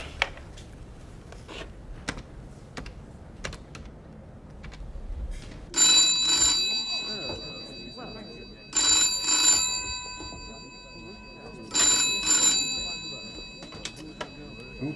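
An old-fashioned telephone bell rings in three bright, loud bursts spaced about three seconds apart, each ring lasting roughly a second, following quieter room sounds and faint talk.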